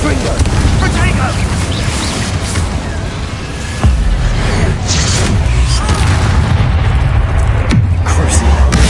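Blasting-spell explosions from a Hogwarts wizard-duel game, a loud booming burst near 3.8 seconds and another around 7.7 seconds over a dense, continuous roar of game effects and music.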